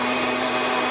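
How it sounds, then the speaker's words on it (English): A kitchen blender whirs steadily as it purees onion and garlic for red pozole broth, one loud continuous motor roar with no pauses and no talking. "I'm going to blend some onion and garlic and let it go."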